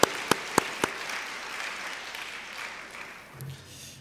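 Church congregation applause during a Friday service, opening with a few sharp individual claps before settling into a softer, fading wash of clapping.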